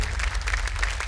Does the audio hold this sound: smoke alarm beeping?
no